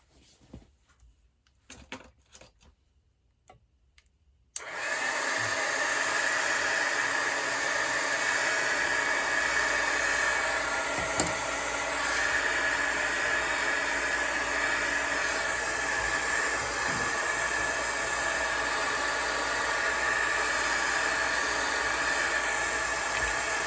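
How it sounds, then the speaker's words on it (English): A heat gun blows hot air onto paper card pieces for an Easter card, a loud, continuous broadband roar that starts abruptly after a few seconds of quiet handling sounds and holds steady to the end. "I'm going to heat them with a heat gun for just a second"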